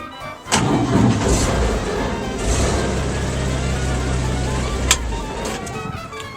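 A 1951 Chevrolet pickup's engine catches with a burst and settles into a steady, low idle, loud and close, with a brief click partway through.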